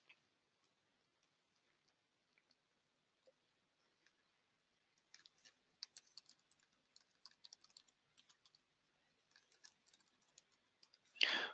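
A map name being typed on a computer keyboard: sparse, quiet key taps at first, then quicker bursts of clicking in a near-silent room, ending with a louder clatter.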